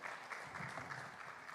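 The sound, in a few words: audience applause after a forum presentation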